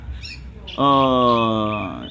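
A green leafbird sings a sustained, rich, buzzy phrase lasting about a second, loud and close, following some fainter chirps and low background noise.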